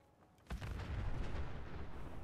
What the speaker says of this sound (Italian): Un'esplosione.